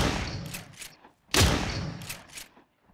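Two sharp gunshots ring out in the survival video game Miscreated, a little over a second apart, each loud and followed by a brief decaying tail.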